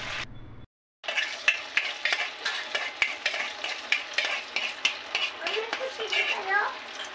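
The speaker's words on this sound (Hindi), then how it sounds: "यहाँ पर मैं इसको हॉट ऑयल के अंदर फ्राई कर रही हूँ पूरा गोल्डन होने तक" Sabudana vada frying in hot oil: crackling sizzle broken by repeated clinks and scrapes of a utensil against the pan, close by, with a faint voice partway through.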